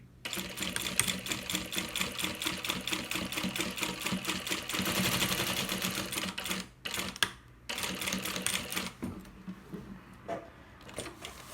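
A sewing machine stitches a straight seam down the middle of a baby bag, a close, rapid mechanical whirr running for several seconds, pausing briefly, then resuming more quietly before trailing off.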